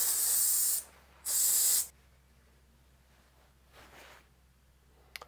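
Degreaser sprayed onto a RockShox mountain bike rear shock during a service: two loud hissing bursts of under a second each, followed by quiet handling noises and a faint click.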